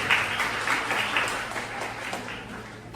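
Audience applause for the panel of professors being seated at a semester opening lecture, steady dense clapping from a hall crowd lasting throughout, moderately loud with no speech over it.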